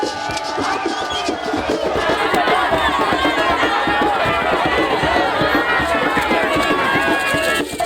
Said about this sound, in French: une foule en liesse attend l'arrivée de cette bienfaitrice